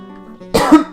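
A single harsh cough bursts out close and loud after a low steady hum, with a faint click at the end.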